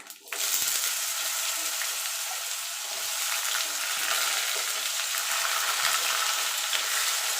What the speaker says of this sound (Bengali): নারকল আলু একটু লাল লাল করে ভেজে নেবো